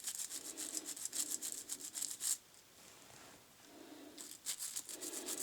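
A scrubber brush rubs lightly over the corners of an Ibanez Edge guitar tremolo in short, close bursts of soft scratchy scrubbing, with a brief pause in the middle and no talking.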